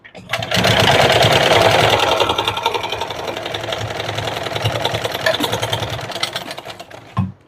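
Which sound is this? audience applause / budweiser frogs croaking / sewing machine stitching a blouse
sewing machine stitching a blouse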